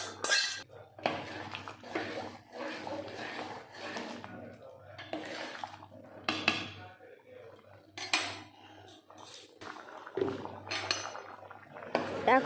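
Khichuri with fried vegetables and slit green chillies is stirred in a metal pot, a ladle clanking and scraping against the sides in repeated bursts, close and clear, with a voice talking between strokes.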